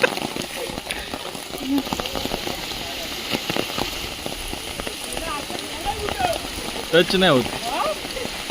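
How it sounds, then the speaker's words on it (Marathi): Heavy rain falling around a hill-station trekking spot, a dense steady hiss with scattered drops, while people talk and shout nearby. "पाऊस खूप आहे आज"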